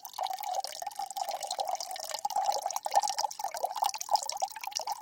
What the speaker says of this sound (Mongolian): ингээд ус хийгээд